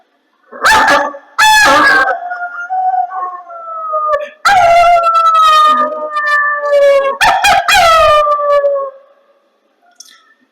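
A human voice imitates a dog's howl in a mimicry performance at the Kozhikode district school arts festival, drawing out long, wavering wails in a few loud, close bursts.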